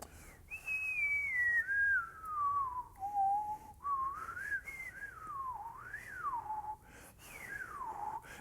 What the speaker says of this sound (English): Now, when you're whistling,